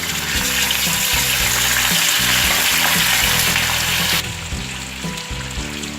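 Chicken going into a pot of browned onions frying in oil for degi palak gosht, a loud continuous sizzle that swells and then eases after the meat lands, with no talking.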